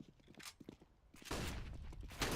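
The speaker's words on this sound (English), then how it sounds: "Max 7 doing its work, gonna get the double kill." MAG-7 shotgun fire in a Counter-Strike match at a ROG Masters 2017 Benelux qualifier: quiet thuds and shots at first, then a loud, dense burst of gunfire and clatter that carries on for over a second.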